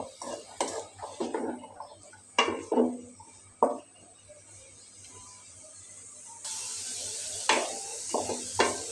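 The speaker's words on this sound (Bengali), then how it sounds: "আমি সবজিগুলি ভালোভাবে কষিয়ে নিচ্ছি" Carrot, papaya and potato pieces stir-fried in a pan for vegetable rolls: repeated scraping stirs and clinks come in short bursts, then a steadier sizzling hiss sets in toward the end, with no talking.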